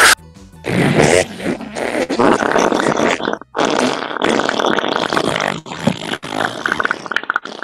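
A comic victory fart sound in a Minecraft game, a long, loud, wet sputtering blast broken into several rasping bursts with brief pauses between them.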